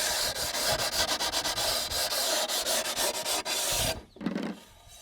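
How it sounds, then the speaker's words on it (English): A sanding pad rubs along the freshly cut edge of a porcelain tile in quick back-and-forth strokes, a rhythmic scratchy rasp repeating steadily for about four seconds before stopping; close and fairly loud, without speech. "I could take my sanding pad and I could get a pretty nice, that's a pretty factory looking edge there"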